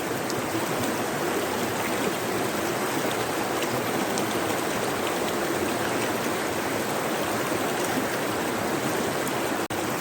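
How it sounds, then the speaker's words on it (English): A shallow stream flows steadily around someone standing in it wearing wellies, producing a constant close rushing and babbling wash with no voices over it. "I'm sitting here with my wellies inside the stream"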